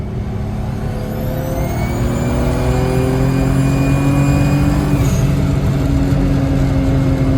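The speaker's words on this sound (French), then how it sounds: "Le nouveau turbo fait le même bruit." A car engine fitted with a new GT3076 turbo revs up, its deep rumble joined by a rising turbo whine and high whistle that climbs steadily, loud and close, with no talk.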